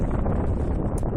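Wind buffets the microphone at a coastal viewpoint near West Kirby with a constant low rumbling roar, loud and close throughout.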